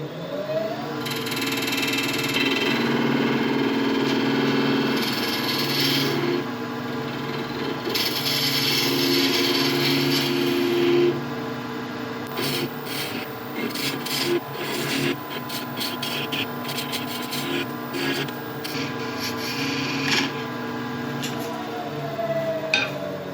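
Wood lathe spinning steadily while a spindle gouge rubs the bevel and rolls into the center to turn a bead, a continuous scraping, hissing cut over the motor hum, louder in the first half and lighter after.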